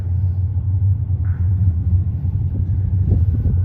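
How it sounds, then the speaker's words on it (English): A Toronto subway train on the Sheppard line rumbling past as a loud, low, steady drone that holds close and heavy for the whole moment, with no speech. "Look, I can hear another West 1 train."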